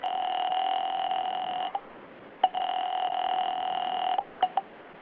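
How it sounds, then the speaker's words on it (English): A telephone number being dialed for a call, heard as long steady tone bursts broken by short gaps and a few quick clicks, clear and close against faint background hiss. "Item 5, 10 cents for a phone call to Smokey Sullivan."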